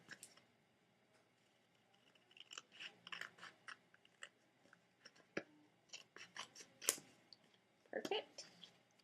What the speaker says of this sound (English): So I'm just going to cut with my scissors along that line.